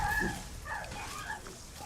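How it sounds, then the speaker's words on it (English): A dog in the video game Lies of P gives short yelping, whimpering cries in a quick cluster over a low muffled background, brief and moderately loud. "Why would you make it so the dogs make that sound"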